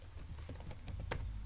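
Someone types on a computer keyboard during a coding session, giving soft, quick key clicks in an uneven run over a low background hum, faint and close.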